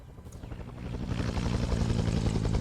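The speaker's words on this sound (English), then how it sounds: "I hear choppers, which means that Allied forces are now starting to push in." Huey helicopter rotor in an Arma 3 Vietnam-era combat scenario, a low rumbling thrum that swells steadily louder as the chopper approaches, filling the low end without any talk.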